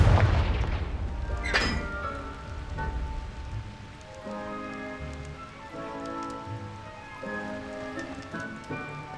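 A Confringo spell blast in the Hogwarts Legacy video game bursts loudly at the start, followed by a sharp crackling flare and fading debris-like patter beneath soft game music.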